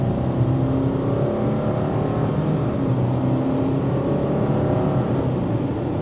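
A 2024 Subaru Outback Touring engine hums steadily inside the cabin on a test drive, a continuous low drone with road noise and no voices, holding at an even level throughout.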